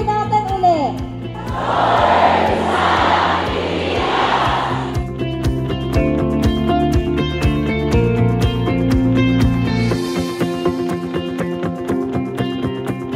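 A convention audience at a USANA Asia Pacific event in Kuala Lumpur shouts a group cheer, a loud burst of crowd voices over thumping event music that fades back to music alone.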